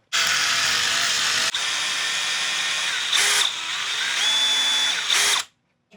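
A loud power drill backing out a stripped screw whirs steadily, pausing briefly and revving again several times before cutting off abruptly at the end.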